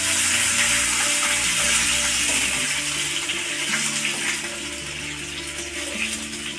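Water is poured into a hot frying pan of reddish fried chicken for a Korean-style chicken pav bhaji, giving a continuous rushing splash with sizzling underneath that eases slightly toward the end, with no talking.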